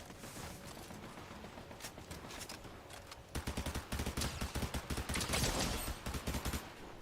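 Rapid bursts of video game gunfire crackle in dense, repeating volleys, sparser at first and then near-continuous and loud in the second half, with no talking.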